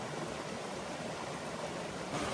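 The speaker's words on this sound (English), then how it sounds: "That is the first waterfall" Middle Grag Prong Falls in Pisgah National Forest rushes as a steady broadband hiss of falling water, constant and enveloping with no voices over it.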